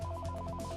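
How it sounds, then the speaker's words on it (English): A telephone rings steadily with a repeating electronic tone in short pulsed bursts, loud and close, with no voices over it. It is the kind of phone warned about during an intruder incident in a school building. "A ringing phone could lead the assailant to students."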